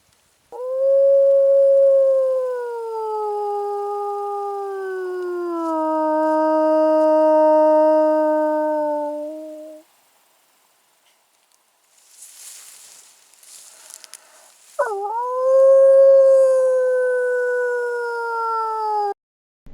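A hunter imitates a wolf with a long, loud, wavering howl lasting about ten seconds at a marshy clearing beside a dam during a wolf hunt. After a pause, a wolf pup answers with a rising, whining howl nearby.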